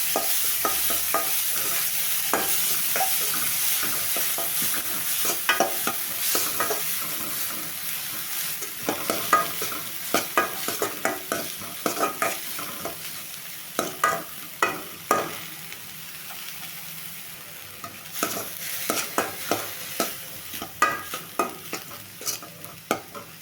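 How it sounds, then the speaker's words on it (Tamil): Chopped onions sauté in a pan for a radish thuvaiyal, with a soft continuous sizzle and frequent scraping stirs of a spoon against the pan, close by and unaccompanied by talk. "வெங்காயம் போட்டுக்கலாம் வெங்காயத்தை வதக்கி விட்டுக்கலாம்"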